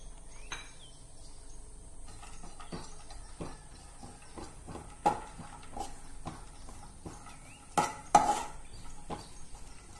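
Cashews and almonds fried in ghee in a pan for a Dussehra sweet, with a utensil scraping and clinking against the metal in irregular taps, a few louder knocks near the end, and a soft sizzle underneath.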